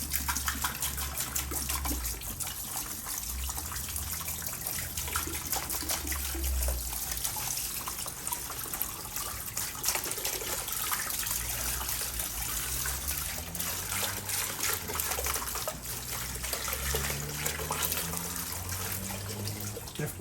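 Rust remover liquid poured into a container for soaking brake parts during an Elantra brake rebuild, a steady trickling, splashing pour running continuously at close range with no talk.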